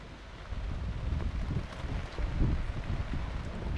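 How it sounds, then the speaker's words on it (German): Wind gusting across an outdoor horse show arena at a CHI show jumping event in Donaueschingen, a steady low rumble of wind buffeting the microphone with swelling gusts, fairly loud and with no talk. "Jetzt kommt auch noch ein bisschen Wind dazu"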